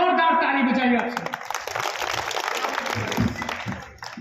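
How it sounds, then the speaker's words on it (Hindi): An audience claps and applauds at a Hindi comedy poetry recital (kavi sammelan) in Amethi. A voice speaks over it at first, then scattered, moderately loud clapping carries on alone and fades toward the end. "अरे एक बार जोरदार ताली बजाइए आप।"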